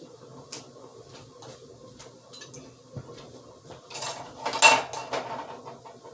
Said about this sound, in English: putting the lids, the rings on, you tighten them, but don't overly tighten them, just snugly